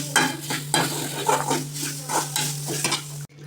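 Stirring in a pan as wheat flour mixture roasts in ghee for sweet suzhiyam, a steady sizzle with repeated scraping strokes of a spoon, close and fairly loud, ending abruptly.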